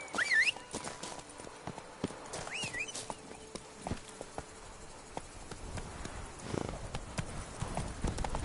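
Geralt's horse Roach in The Witcher 3 clip-clops along at a steady walking rhythm in an outdoor scene. Crickets chirp faintly in the background, and a brief whinny-like cry comes early on, with no talking.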